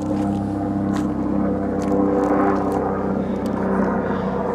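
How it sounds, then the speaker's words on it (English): Helicopter or propeller aircraft passing overhead in woodland, a steady droning engine and rotor rumble that swells slightly mid-pass and stays fairly loud throughout, with no talk over it. "look, a helicopter going over here."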